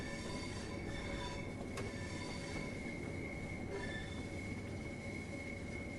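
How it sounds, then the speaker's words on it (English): A train rolls through the Selhurst depot area in Train Sim World, a continuous rumbling rail drone with high wheel squeal and rail whine throughout, plus a brief sharp click partway through. "And there's the train that was in our platform,"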